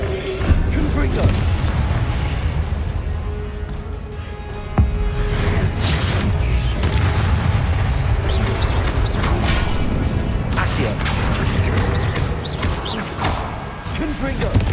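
Confringo blast spells fired during combat in Hogwarts Legacy, with loud repeated explosions, crashes and thuds over a dense, continuous game soundscape while a person speaks throughout.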